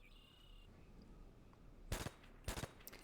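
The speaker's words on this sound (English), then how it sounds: "That is the M1 carbine." M1 carbine gunfire from Call of Duty: World at War rings out in two sharp, bright shots about half a second apart, with a faint third crack trailing after, close and with no talk.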